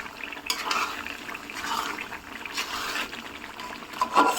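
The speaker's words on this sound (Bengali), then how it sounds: "এভাবে নাড়াচাড়া করতে থাকবো" Garlic pickle with mango pieces being stirred in a pot, giving soft scraping and clinking of a utensil against the metal in an irregular rhythm, close and fairly quiet with no talk.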